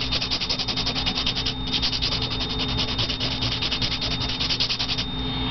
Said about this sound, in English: I'm going to take that brush again and clean it off.